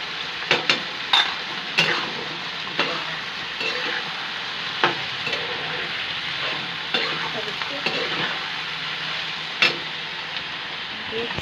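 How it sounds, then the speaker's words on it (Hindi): Something fries in a pan over a high flame with salt added. A close, continuous sizzle runs under repeated sharp scraping and tapping stir strokes at an uneven rhythm, with no voices. "मैं इनको अच्छी तरह से फ्राई करूँगी।"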